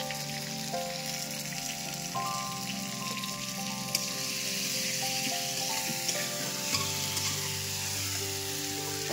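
Spice masala and ginger paste frying in a pan, stirred steadily; a close, continuous crackling sizzle runs throughout with occasional spoon scrapes, no talking.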